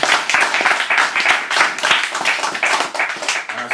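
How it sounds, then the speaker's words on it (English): Audience applauding after a singer's live set, a dense, loud burst of close clapping that rises and falls slightly over a few seconds. "More applause, please."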